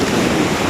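Ocean surf rushes in a broad, loud wash at a beach in Pangasinan, mixed with wind buffeting the microphone, in a brief burst with no voices.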